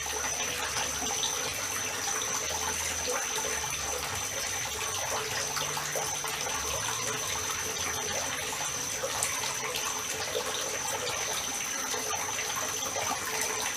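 Water flowing steadily over a big ball in an outdoor water feature, a continuous close splashing and gushing with no breaks throughout.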